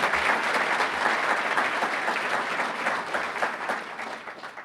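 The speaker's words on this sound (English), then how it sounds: "Please give them a round of applause" Crowd applause at a city's State of the City address, many hands clapping in a steady roar that gradually tapers off near the end.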